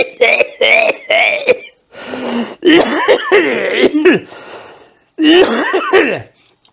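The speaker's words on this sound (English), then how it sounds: "I'm crying with coughing" A woman coughs repeatedly at close range in loud, rough fits, with throat clearing, gasping breaths and brief pauses, over roughly seven seconds.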